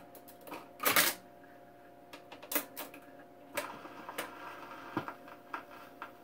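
Reject mechanism of a 1959 Grundig SO141Ua stereo console record changer cycling, giving a string of close mechanical clicks and clunks with a louder burst near the start, then lighter ticks and knocks over a steady low hum.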